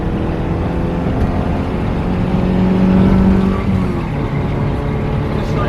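A Mitsubishi Eclipse accelerates hard in third gear around 3000 rpm, its engine drone steady and loud from inside the car, rising slightly mid-run.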